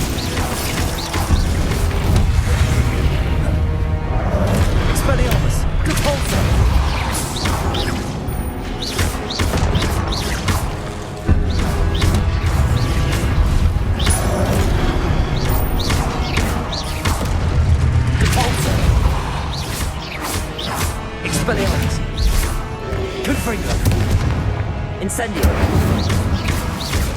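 Spells cast and bursts exploding in Hogwarts Legacy gameplay: dense, continuous crashes, whooshes and booms layered over a music-like bed, with a voice calling out incantations throughout.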